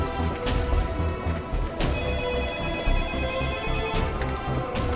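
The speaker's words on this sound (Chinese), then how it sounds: "接电话" A telephone rings in an office where a case team is working, heard as faint repeated ringing within a busy background, moderately quiet and continuous.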